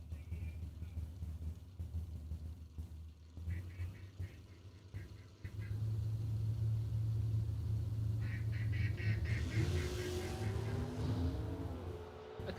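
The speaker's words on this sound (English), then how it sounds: "That duck sounds like he's laughing." A duck quacks repeatedly at a drag racing event, its calls mixed with idling and revving race car engines and a commentator's voice in the background.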